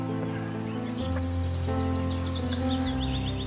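A yellow-vented bulbul (trucukan) calls with a string of bright, quick chirping notes over a steady background hum, no one talking.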